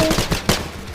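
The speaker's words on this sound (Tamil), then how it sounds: "சுட்டு தள்ளுறீங்களே." Rapid bursts of video game gunfire crack out loud and close, several sharp shots in about a second with a strong shot near the middle.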